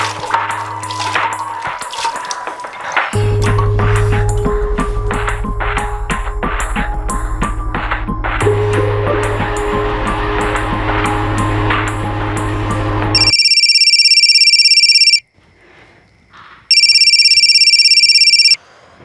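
A phone rings unanswered: a repeated electronic ringtone with bright, regular pulses that plays on loud and alone, then cuts off abruptly, followed by a shorter burst of a high beeping tone after a brief gap.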